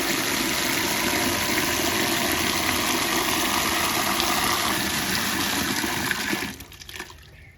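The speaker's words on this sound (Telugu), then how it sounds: "ఈ విధంగా శుభ్రంగా నీట్గా కడుక్కోవాలండి ఆకంతా చక్కగా ఇలా ఒకసారి రెండు సార్లు కడగాలి" Gongura leaves being washed under a running tap, with a loud, steady rush of water that continues for several seconds before cutting off near the end, followed by faint splashing, and no one speaking.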